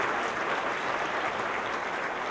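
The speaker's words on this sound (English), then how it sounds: "a huge warm round of applause for Lola Reinsch, this year's 2014 award recipient" An audience at a community award ceremony applauds an award recipient, a dense, even wash of clapping that holds steady throughout with no pauses or voices on top.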